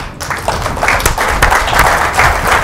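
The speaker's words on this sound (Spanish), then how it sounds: "para quien les pido un fuerte aplauso" An audience at a book presentation in Guanajuato claps for author Eric Javier Huerta, a loud, close round of applause with a few sharper individual claps standing out.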